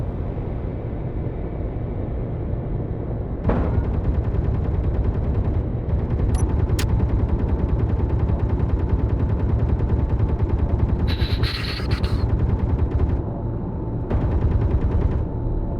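Steady rapid gunfire from the player's aircraft in a blueprint-built flying craft game, a continuous fast rattle over a constant engine drone, with a brief sharp tone and a few changes in texture partway through.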